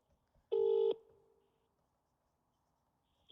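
A telephone call is dialed: one loud, short electronic tone sounds against near silence, followed by a faint hum and the start of another tone.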